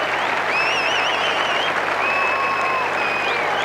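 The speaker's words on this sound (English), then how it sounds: "Pablo Dionisio has the rafters ringing with applause for scoring a try." A large crowd at a 1989 rugby union match between Auckland and Argentina applauds loudly and steadily after a try, with whistles rising above the sustained clapping.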